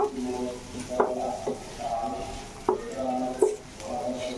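Yellow and red capsicum frying lightly in a pan gives a steady soft sizzle, broken by a few sharp spatula knocks against the pan and by stirring scrapes, heard up close.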